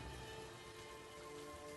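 Heavy rain pours steadily around a broken hut in a forest on a stormy night, a faint, even hiss of drops with no voices.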